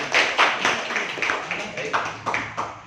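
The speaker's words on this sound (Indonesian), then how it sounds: "Tepuk tangan untuk kita semua." Audience at a youth organization gathering applauds, a steady patter of many hands clapping together, moderately loud and continuous with slight pulsing.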